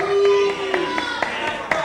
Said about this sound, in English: And Commissioner Rocca just standing and applauding.